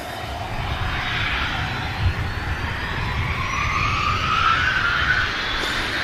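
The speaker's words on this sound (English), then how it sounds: "Cessna citation. Heading over to Vienna." A Cessna Citation business jet departs Manchester Airport, its engine whine rising in pitch over a low rumble at moderate distance, growing slightly louder toward the end.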